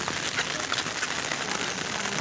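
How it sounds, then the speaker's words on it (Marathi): Steady rain pours down around a temple in Kharepatan, forming a dense, even hiss that fills the scene from start to finish with no voices. "पावसामुळे थोडा आवाजाचा इश्यू होते."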